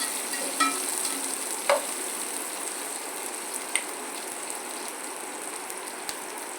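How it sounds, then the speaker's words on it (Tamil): Onions sauté in a pan for a home-style chicken curry, a soft, steady frying sizzle broken by a few light scraping clicks of stirring, with no one speaking. "வெங்காயம் வந்து கொஞ்சம் நல்லா வணங்கிருச்சு"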